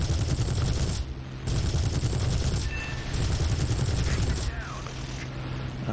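Bursts of aircraft gunfire in War Thunder, heavy rattling volleys in three long stretches separated by short gaps, loud and close over engine roar, with a voice speaking over it.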